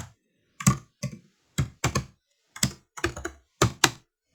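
Someone types on a computer keyboard while entering an HTML form: crisp separate key clicks in short irregular bursts, close and clear, with silence between.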